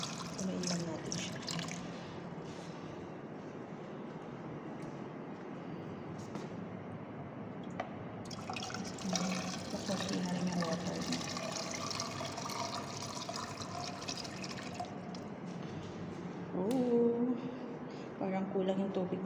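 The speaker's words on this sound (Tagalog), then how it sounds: "Ito naman water lang talaga to siya." Water trickles and fills a container steadily at close range, a continuous splashing wash heard beneath a person talking throughout.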